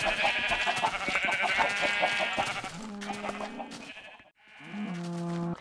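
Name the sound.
sheep bleating in a video game farm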